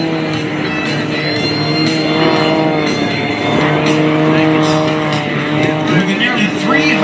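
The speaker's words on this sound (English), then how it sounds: "let's welcome Brian Correll, coming in through that knife-edge flight with the wings generating almost zero lift" An aerobatic propeller airplane with a roughly 330-horsepower engine flies knife-edge at the 2022 Blue Angels Homecoming Air Show, its engine giving a loud, steady, droning whine that swells slightly as it passes.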